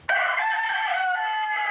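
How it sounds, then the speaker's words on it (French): A farmyard rooster crows loudly and close by, one sustained call filling the whole moment with no talking over it. "celui qui chante c'est le coq"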